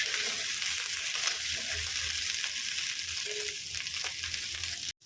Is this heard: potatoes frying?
yes